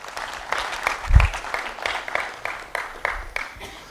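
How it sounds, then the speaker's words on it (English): An audience at an engineering and art talk gives a short burst of scattered applause, fairly close and uneven, with a few louder claps and a thump standing out before it trails off. "Give her a round of applause."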